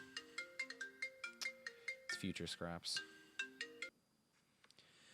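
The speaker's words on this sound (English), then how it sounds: "I'm getting a phone call again." A melodic phone ringtone from the video game Marvel's Avengers (Future Imperfect Clint Barton DLC) plays a repeating chiming pattern of bright notes, loud and close, then cuts off as a voice speaks briefly.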